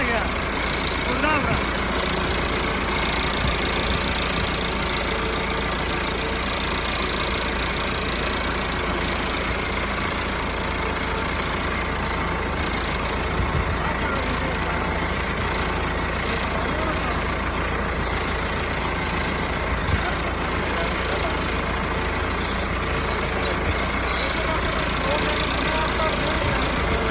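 A 385 tractor engine running steadily at a constant low rumble throughout, with a person talking over it.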